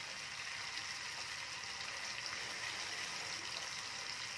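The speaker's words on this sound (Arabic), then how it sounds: "ازود مية بالراحة" Water is poured slowly into Egyptian koshari tomato sauce, giving a steady, even hiss of liquid running into the pot without a break.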